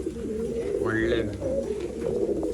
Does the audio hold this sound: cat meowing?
no